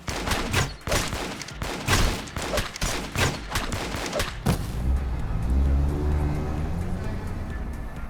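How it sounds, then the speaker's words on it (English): In the video game Lobotomy Corporation, a burst of rapid gunfire-like bangs gives way to a loud, droning, truck-like engine rumble that holds steady for several seconds. "that sounded like a truck"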